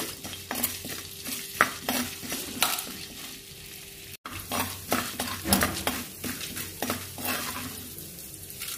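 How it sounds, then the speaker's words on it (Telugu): Mustard seeds, cumin, urad dal and chana dal sizzle in hot oil while being stirred, with steady frying hiss and repeated scraping clinks of a utensil against the pan, close and alone. "జీలకర్ర మినపప్పు పచ్చనపప్పు వేసేసుకొని ఫ్రై చేసుకున్నాం కలుపుకుంటూ"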